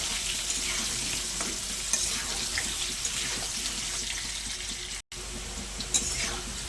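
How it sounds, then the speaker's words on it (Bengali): Potatoes seasoned with salt and turmeric fry in the oil left from frying rohu fish, giving a steady close sizzle with occasional faint clinks, and no voices. "আলুগুলোকে একটু লাল লাল করে ভেজে তুলে নেব"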